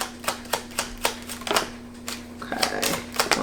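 Tarot cards drawn from a deck during a reading, a steady run of crisp card snaps and shuffles about four per second, close and loud, with a faint steady hum beneath.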